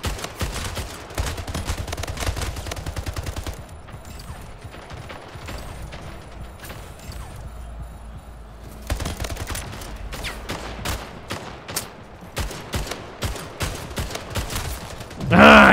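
Rapid bursts of video-game gunfire from Splitgate, firing in dense volleys that break off midway and then resume in sharp repeated shots, with a faint voice underneath.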